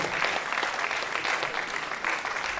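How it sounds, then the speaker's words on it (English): An audience at a World Environment Day event applauds as a woman steps up, steady moderately loud clapping from a crowd that pulses slightly but continues without pause across the short stretch. "let's give her a round of applause as she steps up"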